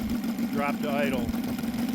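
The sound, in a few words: OS FR300 model engine dropping to idle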